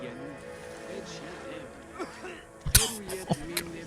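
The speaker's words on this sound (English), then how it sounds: "Bro, don't you be coughing on the beer." Coughing in the Assassin's Creed Education Edition video game, beside big jars used for brewing beer: a sharp cough burst near the end, followed by a few smaller ones, over a murmuring game background with voices.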